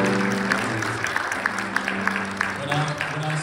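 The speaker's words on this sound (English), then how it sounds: "Give them a cheer." Applause and cheering from a church-style audience hosting a guest bishop, scattered claps popping through a continuous crowd roar, with a voice carrying on over it.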